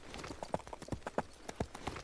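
Cartoon horses trot with quick, crisp, evenly paced clip-clops, close and clear, with a rhythmic double beat and no talking over them.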